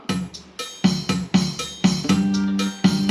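A Yamaha PSR-450 electronic keyboard plays a bouncy repeating Thai rhythm pattern of percussive hits with sustained synth tones, loud and close.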